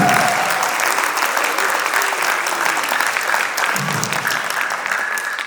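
Sustained applause from a hall audience during a presidential speech: a thick, loud wash of many hands clapping continuously, with faint crowd murmur underneath.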